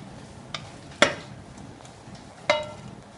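Stir-fried glass noodles with egg and cha-om tossed in a pan, giving a few quiet, brief scrapes and clinks spaced about a second apart against a low, near-silent background.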